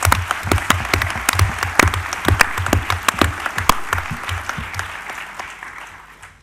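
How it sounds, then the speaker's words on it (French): A large audience claps for the organising team at a conference gathering, a dense burst of many hands that stays strong and close before gradually thinning and fading toward the end, with no voices over it. "j'aimerais qu'on les applaudisse"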